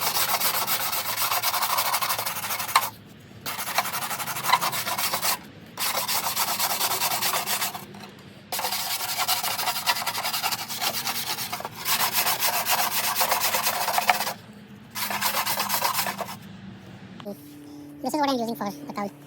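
Sandpaper is rubbed by hand over a Fiat Spider cowl part in long, steady scraping strokes with short pauses between passes, close and fairly loud, ending with a brief clatter.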